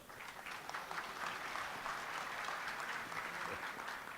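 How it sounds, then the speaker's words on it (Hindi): An audience at a devotional gathering applauds in welcome of Arun ji, a steady wash of many hands clapping, faint and distant, sustained without a break. "अरुण जी के स्वागत में ताली मारो"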